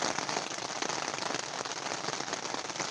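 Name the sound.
rain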